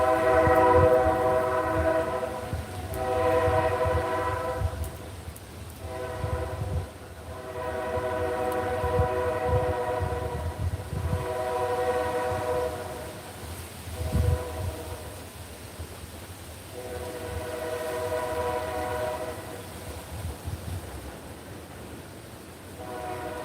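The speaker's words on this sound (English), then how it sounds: "Listen to that train. It's beautiful, right?" A train rolls past outdoors on a windy day, its horn sounding in long repeated chord blasts over a steady rumble, with gusts of wind buffeting throughout.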